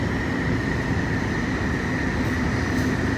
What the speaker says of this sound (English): The train to Hong Kong is arriving.